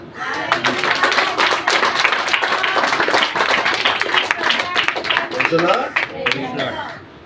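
A church congregation claps loudly together in praise of Jesus, a dense, sustained round of applause with a few sharper claps and faint voices mixed in before it tapers off.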